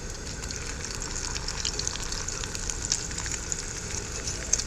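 Eggs and Spam fry on a camp stove set on a truck tailgate outdoors, giving a steady, soft, crackling sizzle that runs unbroken at low volume with no talking.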